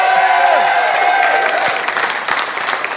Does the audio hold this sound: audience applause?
yes